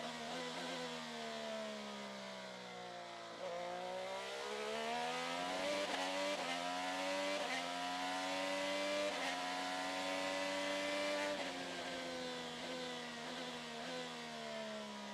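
IndyCar race cars run on track during a 2024 open test session at Thermal, their engines droning continuously with pitch repeatedly rising through the gears and dropping again as the cars lap and pass.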